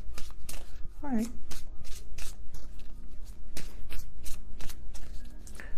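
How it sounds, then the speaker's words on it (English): Tarot cards being shuffled in several quick riffling bursts, with a person talking over the crisp, papery flutter. "I'm going to do one more shuffle"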